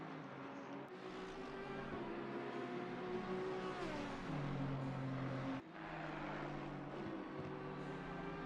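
Audi and Ferrari GT race cars dueling in Assetto Corsa Competizione during a 24-hour Watkins Glen endurance event, engines droning loud and steady with rising and falling pitch as gears shift, with no talking over it.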